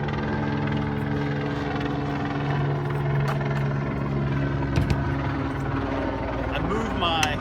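A helicopter's rotor thrum drones steadily overhead at moderate distance, with a brief clatter near the middle and faint background noise throughout.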